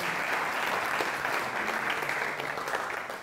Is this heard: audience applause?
yes